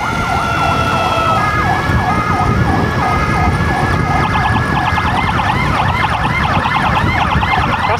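Close, loud ambulance siren wailing in continuous rising and falling sweeps during an emergency patient transfer run to a hospital, over steady vehicle road noise.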